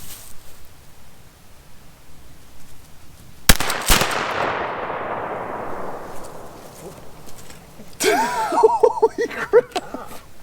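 A single sharp, loud gunshot from an unintended slam fire cracks out and rings off with a long decaying echo, followed a few seconds later by a burst of laughter or exclamation.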